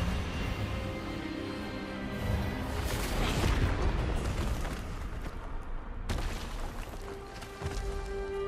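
A forceful magical disarming spell, Expelliarmus, cast in the video game Hogwarts Legacy, erupts as a dense, booming blast over a continuous rumbling game soundtrack, swelling to a peak before a sharp cutoff and a softer follow-up burst.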